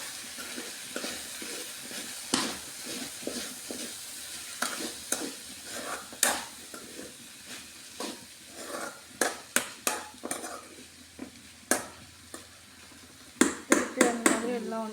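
Long beans for toran get stirred in a pan, a spoon knocking and scraping the metal in uneven clusters of sharp clanks, busier and louder toward the end.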